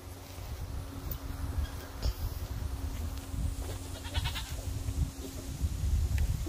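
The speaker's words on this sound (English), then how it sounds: "See what goats do when they always fighting on your property?" Goats bleat on a farm property while they fight, a few short, fairly faint bleats over steady outdoor background noise and rustling, with no talking.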